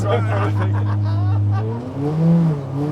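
A Kimera EVO38 rally car engine drones steadily near the listener while driving in snow, pitch rising and swelling toward the end as it accelerates, with a voice talking over it.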